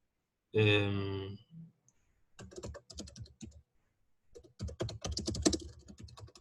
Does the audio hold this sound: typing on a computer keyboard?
yes